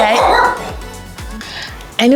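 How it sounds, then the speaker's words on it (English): A neighbor's dog barks repeatedly nearby, several sharp woofs spaced through the moment, with people's voices over and between the barks. "our neighbor's dog doesn't want us to finish this video"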